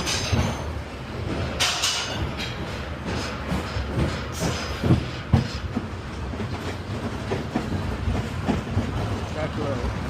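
Mine Train roller coaster at Six Flags Over Georgia running on its track, a rattling, clattering rumble with bursts of louder clanks and some faint voices around.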